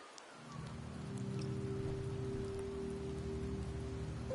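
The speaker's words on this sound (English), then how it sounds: "The rains in Septimont never seem eager to leave this season." Steady rain ambience from a video game fills the scene with an even, soft hiss under a low drone, with no voices.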